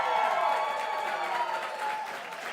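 A live studio audience claps and cheers in a steady, moderately loud wash of applause lasting a few seconds.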